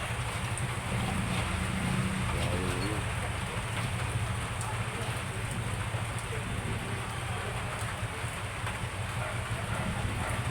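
Steady rain falling on an afternoon, a dense, continuous hiss of drops on surfaces at moderate loudness, with a low rumble underneath and faint background voices.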